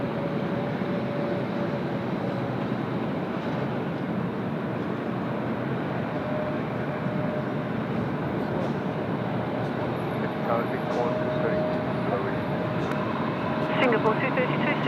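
Qantas aircraft taking off from runway 34 left at Sydney Airport, a steady broad engine roar that holds throughout the clip.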